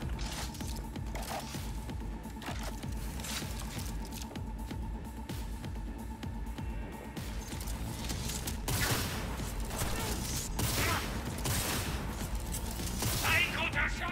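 Video game gunfire: steady, rapid bursts of shots with sharp, louder cracks every few seconds, layered over dense battle noise that grows more intense in the second half.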